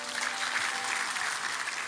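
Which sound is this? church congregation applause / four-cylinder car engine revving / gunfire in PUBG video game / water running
church congregation applause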